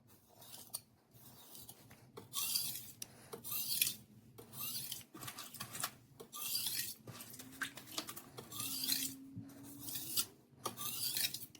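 Kitchen knife drawn across a gritty whetstone in light, long, even strokes: a dry rasping scrape repeated in a steady rhythm, close and fairly quiet, with brief pauses between passes.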